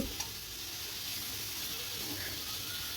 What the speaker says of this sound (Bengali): কড়াইতে আলু পেঁয়াজ কাঁচা লঙ্কা দিয়ে ভাজা ভাজা একটু নাড়াচাড়া করে নিয়ে